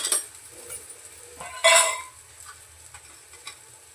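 Onion and tomato sauté in a pan with spices, giving a soft steady sizzle broken by metal spoon scrapes and clinks, with one louder stirring scrape partway through and no talking.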